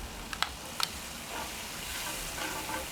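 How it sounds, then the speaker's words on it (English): One large yellow onion sautés in a pan, giving a soft, steady sizzle and hiss, fairly quiet and close, broken by a couple of small clicks early on. "Gonna get that sauteed down just for a minute or two"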